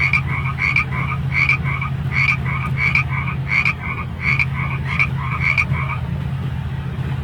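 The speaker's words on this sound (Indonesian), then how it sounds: "dan terakhir ada katak di sini" Frogs croak in a steady, repeated pulsing rhythm, each call a quick rattling burst, over a constant low hum, with no voices.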